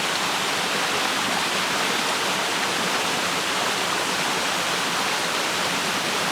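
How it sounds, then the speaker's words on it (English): Water pours through an old mine in a constant, dense roar of rushing flow, close and loud, with no break and no voices. "so much water running through there"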